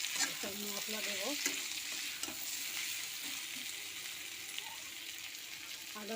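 Vegetables and spices frying in white oil in a pan, stirred with a ladle: a steady dense sizzle runs throughout, with scraping stir strokes and faint talk under it.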